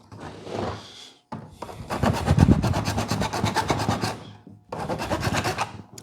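Rough rasping strokes of a hand file work the plastic edges of a car stereo head unit, coming in long back-and-forth bursts with brief pauses between, close and loud, without talk.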